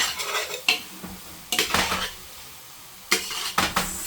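Thanksgiving stuffing with butter stirred in a pan, heard as bursts of spoon scraping and clattering against the metal, separated by short quiet gaps under a soft sizzle.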